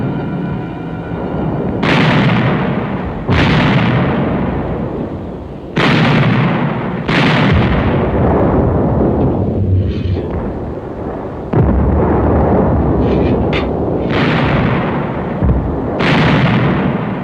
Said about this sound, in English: German artillery gave American forward units a hard time for the rest of that day